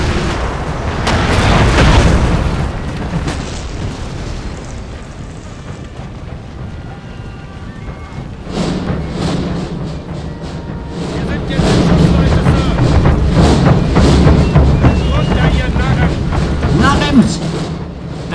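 Cannon fire in a Napoleon: Total War battle, with heavy booms and low rumbling artillery rolling through, louder bursts toward the end, under a voice talking.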